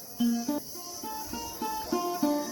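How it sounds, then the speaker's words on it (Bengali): A cricket gives short, repeated chirps in an uneven rhythm, fairly close, against a quiet background. "ঝিঝি ঝিঝি পাখির আওয়াজ আসছে"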